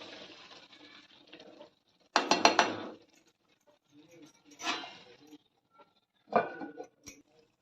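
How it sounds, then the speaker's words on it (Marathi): A spoon scrapes and stirs brinjal curry in a pan, then a lid goes on: three close, short bursts of metallic scraping and clatter separated by quiet gaps, after a soft sizzling hiss at the start. "परत हलवून घ्यायचं आणि परत ह्याच्यावरती झाकण मारून घ्यायचं दोन तीन मिनिटासाठी"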